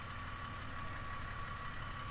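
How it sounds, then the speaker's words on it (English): A Toyota Tacoma Pre-Runner Double Cab idles steadily with a low engine rumble and a faint, light rattle from the heat shield, a constant close sound with no talking. "If you're hearing a tiny bit of rattle, it's a little bit of that heat shield, which is normal."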